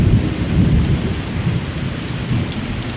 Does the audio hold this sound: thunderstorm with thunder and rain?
yes